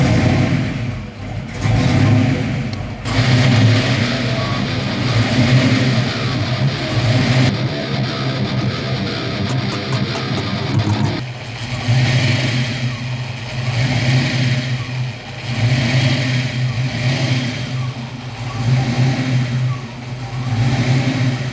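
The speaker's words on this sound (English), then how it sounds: "Idling so high." Fox body Ford Mustang engine idling high right after starting, a steady loud mid-range engine drone with a brief rev change partway through, running continuously throughout.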